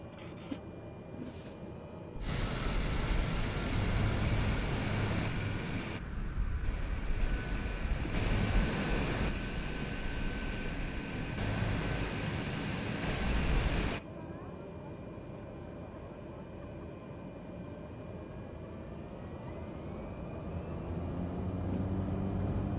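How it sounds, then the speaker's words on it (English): An airliner's takeoff roll in a flight simulator game: after a quiet start, a loud, broad roaring rush builds and holds with a few brief dips, then drops back to a softer hum. "I think we are ready for takeoff"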